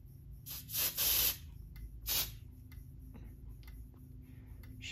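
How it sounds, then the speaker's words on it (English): Aerosol test smoke sprayed at a System Sensor 2400 smoke detector: a longer hissing burst, then a short second spray, close and clear over a steady low room hum. "I'm going to activate the system sensor 2400 by just spraying some smokes"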